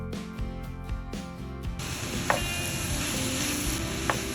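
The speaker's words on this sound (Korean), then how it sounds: "고기가 익을 때까지 볶아준 다음 후추도 뿌려주면 됩니다." Meat and vegetables stir-fry in oil for hayashi rice; a short stretch of music gives way to a steady, close sizzle, punctuated by a couple of sharp spatula clinks.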